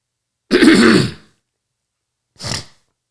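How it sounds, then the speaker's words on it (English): A person clears their throat, one rough rasping burst followed a second later by a shorter, softer one, close and alone in silence. "Clear your throat."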